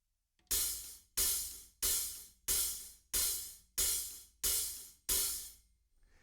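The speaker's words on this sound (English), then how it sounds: "The hi-hat pattern sounds like this." A slightly open hi-hat plays alone in the pattern from a song, steady and evenly spaced, eight washy strikes, each ringing briefly before the next.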